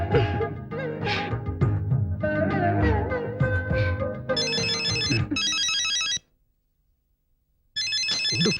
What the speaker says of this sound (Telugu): ఉండు, ఫోన్ వచ్చింది.